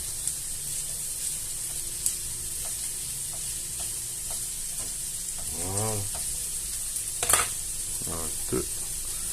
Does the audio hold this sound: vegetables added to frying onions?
yes